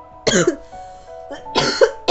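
Two harsh bursts of coughing, close and loud, separated by a short quiet pause with a faint final rasp at the end.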